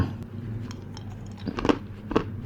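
Nuts being chewed and crunched up close, a few soft bites building to two louder crunches near the end, alone without talk.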